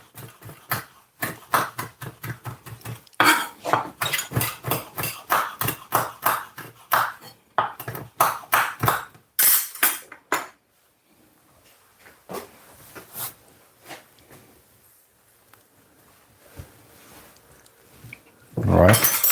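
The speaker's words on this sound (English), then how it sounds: "I'm gonna use the smaller knife. We just do like this, and we're gonna cut." Boneless chicken leg meat is cut with a small knife in a quick run of sharp, repeated chops on a board, then sparser taps after a short pause, close up and without speech.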